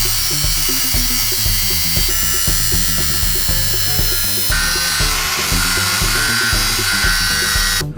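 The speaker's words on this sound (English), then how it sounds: "We have a few screws that are sticking out, so we have to grind them off." An angle grinder-type power tool grinds off protruding screws on a homemade cold frame, a steady loud whine running continuously with slight pitch shifts and no talk.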